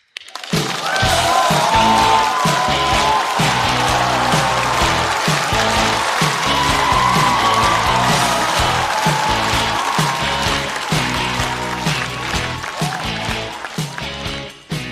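A studio audience welcomes a stand-up comedian at a Chinese comedy club show with loud, sustained applause and some cheering, holding steady for most of the span before trailing off.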